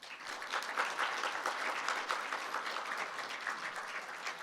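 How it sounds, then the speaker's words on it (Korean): Dense, steady applause from a seated audience welcoming a speaker at the opening symposium of an academic institute. The clapping is loud and continuous throughout, with no voices. "박수로 환영해 주시기 바랍니다."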